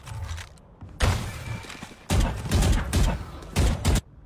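Valorant gunfire crackles in bursts, loud and close, with a sustained volley from about the two-second mark onward, broken by brief pauses; speech is faint or absent beneath the shots.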